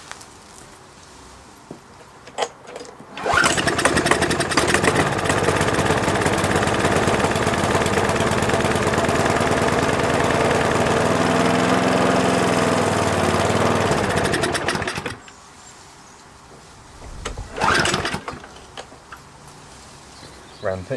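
McCulloch petrol lawn mower engine, just repaired after a blocked fuel jet, runs steadily for about twelve seconds at a loud, close drone, then cuts out, with faint handling noises before and after.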